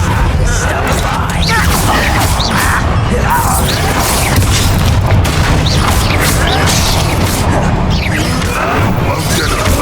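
Descendo slam spell in Hogwarts Legacy, a dense battle of repeated booming impacts, crashes and whooshes that stays loud and continuous throughout. Speech is mixed in.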